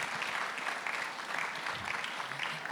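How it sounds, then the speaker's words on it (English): Steady, dense audience applause for a speaker at a talk, many hands clapping continuously at an even level throughout, with no speech. "Can we give him a round of applause"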